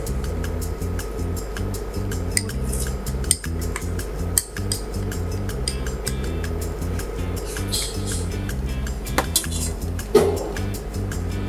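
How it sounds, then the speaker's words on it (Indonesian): A utensil stirs a thickening mix of cornstarch solution and dark cherry syrup in a pot, with steady scraping and light clinks against the metal sides that run on continuously and closely, without speech. "Dan kita aduk sampai rata."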